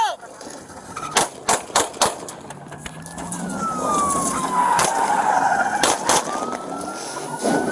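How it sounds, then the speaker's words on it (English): Gunshots ring out during an armed robbery arrest by a US special agent: several sharp, loud cracks in a quick irregular burst, then a rising and falling siren-like wail and more scattered shots, amid a noisy outdoor scene. "shots fired."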